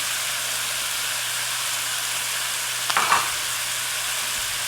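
Sun-dried tomatoes, oregano and plenty of garlic sizzle steadily in a pan, a close, even frying hiss with a brief stir-clatter near the middle.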